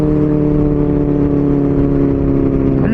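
A Benelli 600i motorcycle engine runs steadily while riding, a loud continuous mid-pitched drone with an even tone and no pauses throughout.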